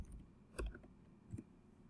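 A few faint computer keyboard keystrokes land in quick isolated taps during password entry on a quiet computer, with a soft click, a pause, then another click.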